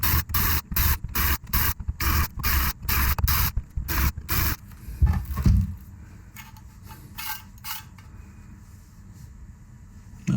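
A 6.5mm drill bit cuts a countersink into the base of a small enclosure, giving a rapid series of short, sharp whirring bursts up close, followed by quieter hum and faint handling noise.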